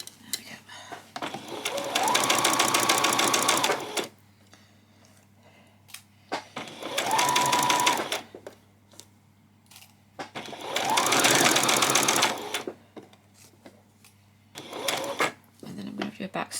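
A sewing machine stitches a skirt in three long bursts and a shorter final run, its motor whirring loud and steady, with brief pauses between runs for back stitching while a person talks quietly in the gaps.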